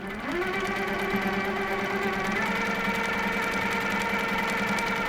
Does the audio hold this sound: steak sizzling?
no